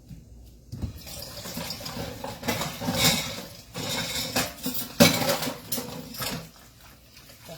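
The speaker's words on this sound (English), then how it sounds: "using a pan to wash my dishes in" Dishes and cutlery are washed in a pan of water instead of a filled basin. Utensils clink and scrape against one another, and water splashes close by in uneven bursts throughout.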